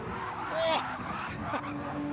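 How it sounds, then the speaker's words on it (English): A Porsche GT3 race car in a racing video game slides sideways with a brief tire squeal over engine drone, all heard beneath excited commentary. "Did you see that Porsche get out nice and sideways?"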